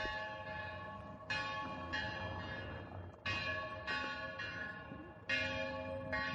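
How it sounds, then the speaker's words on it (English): Church bells in the city of Gyumri, Armenia, ring out repeatedly in a slow, overlapping peal, each strike ringing on and decaying into the next, with no one talking. "The timing with the church bell was not planned, but at least you get that auditory sound of the city."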